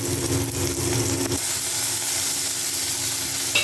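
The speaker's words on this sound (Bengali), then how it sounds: "টমেটো কুচি দিয়ে দেবো," Chopped tomato goes into onions frying with black cumin and green chilli for a mourala fish curry, giving a loud, continuous sizzle that shifts into a brighter hiss partway through.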